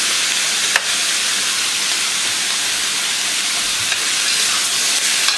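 Beef searing in a hot pan gives off a loud, steady, close sizzling hiss of spitting oil and steam, with a few faint clicks and no talking.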